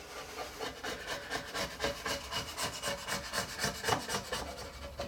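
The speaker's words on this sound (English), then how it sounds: "it only takes a couple minutes to get that squeeze out scraped off of there" A scraper rasps repeatedly across a wooden end grain cutting board, lifting glue squeeze-out in quick, rhythmic back-and-forth strokes that are close and fairly quiet, with no voices.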